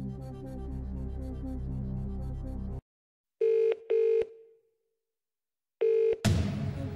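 In the Who Wants to Be a Millionaire video game, a Phone a Friend call begins after a musical passage ends: a few short tonal dialing beeps and ring pulses sound alone, followed by a sudden swell of music.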